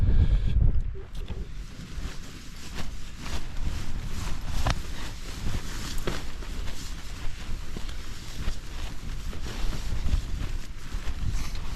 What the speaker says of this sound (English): it's cold because it's a cold wind